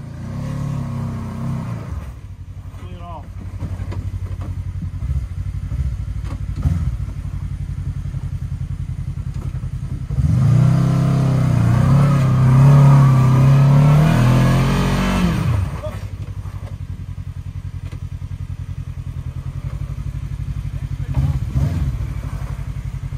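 An off-road vehicle crawling over rocks on the Black Mountain Middle Rock Garden trail, its engine idling and rumbling low, surging into a louder strained revving climb midway with clunks and scrapes, while people talk over it.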